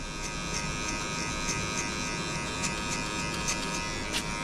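Electric hair clippers buzz steadily and close up while cutting a low fade haircut, a continuous hum with faint shifts as the blade moves across the head.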